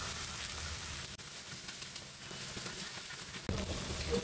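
Ginger paste, added with garlic paste to onions browning in hot oil in a kadai, fries with a continuous close hiss and crackle that swells suddenly near the end.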